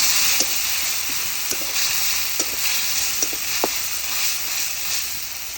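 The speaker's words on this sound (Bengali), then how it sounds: "হয়েছে পেঁয়াজ ভাজা, দিয়ে মশলা, আমরা মশলা আগে দিয়ে দিয়েছি, পেঁয়াজ তাড়াতাড়ি জ্বলে যাচ্ছে।" Onions frying in a pan with spices, including ginger, garlic, cumin and dried chillies, give a constant close sizzle and hiss, broken by a few sharp crackles and pops of stirring.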